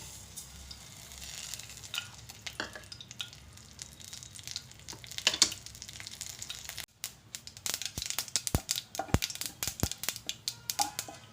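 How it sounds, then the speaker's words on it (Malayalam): Mustard seeds splutter in hot oil in a pan, a soft sizzle that gives way to a run of sharp, irregular pops and crackles, close and fairly quiet. "കടുക് പൊട്ടി വരുന്നുണ്ട്"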